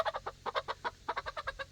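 Molting backyard hens cluck close by in a quick, steady run of short bursts, with no one talking.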